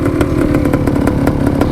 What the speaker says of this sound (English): There's nothing better than a big bore two-stroke ring-a-ding-ding.